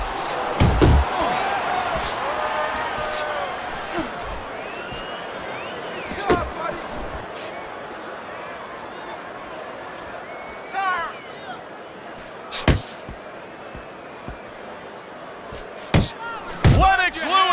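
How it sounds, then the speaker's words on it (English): Heavy punches and a crushing uppercut land in a Fight Night Champion bout between Lennox Lewis and Vladimir Klitschko: a handful of sharp, loud thuds spaced through the round over a steady crowd roar, with commentators talking throughout. "Lennox Lewis is on the wrong end of a destructive uppercut"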